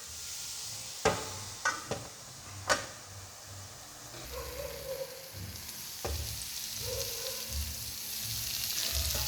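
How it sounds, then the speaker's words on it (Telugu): Pieces of snake gourd frying in a pan with masala, a soft steady sizzle broken by a few sharp clicks and taps early on and louder bursts of crackle later. "ఈ పొట్లకాయ ముక్కలు అనేది ఇంకా ఫ్రై అవ్వాలి"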